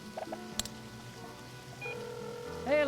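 Phone dialing in the video game To Pixelia for a gossip call, a few short tones in quick succession, a higher beep, then a rising warble at the end, all over game music.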